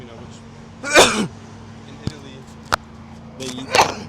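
On a Silver Lake street in Los Angeles near a food truck, someone gives a loud, close sneeze, followed by small clicks and a second, softer burst while people talk nearby.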